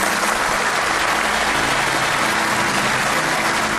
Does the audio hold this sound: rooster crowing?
no